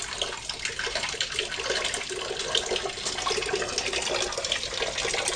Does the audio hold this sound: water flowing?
yes